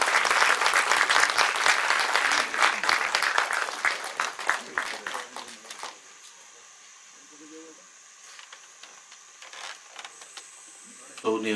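A book-talk audience applauds to welcome speaker Pranav Trivedi: loud, dense clapping for about six seconds, then thinning into scattered claps and a quiet room with a few faint noises.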